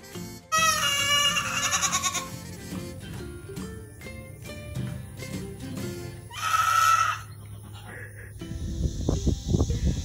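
Goats bleat in a farm setting, a few wavering calls of varying pitch standing out over rustling and handling noise, fairly close and loud, with no talking.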